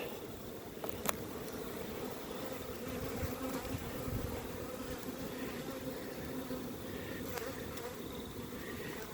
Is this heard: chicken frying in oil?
no